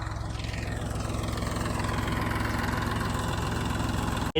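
A tractor engine idles on a farm with a steady, even low chug that holds at a constant level throughout, ending in a brief click.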